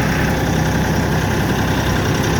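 LS XR4145 compact tractor engine running steadily as it pulls away in first gear, a loud, continuous low diesel rumble with constant vibration and no voices.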